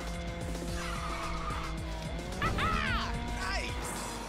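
Car drifting through a corner in Ridge Racer 6, tires squealing in rising and falling wails over a droning racing engine, loud and close, with a brief burst of skid noise midway.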